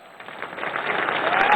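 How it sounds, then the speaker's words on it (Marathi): Brief burst of audience applause for Aamir Khan at a public event in Maharashtra, clapping building and growing louder over a second and a half. "मी सर्वप्रथम आपल्याला विनंती करतो की एकदा जोरदार टाळ्या आमिर खान"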